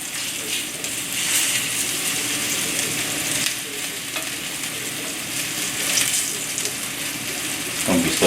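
Cheesy fried rice crackles and sizzles steadily in hot oil in a pan, a dense, close frying hiss that holds evenly throughout with small pops and a faint clink at the end.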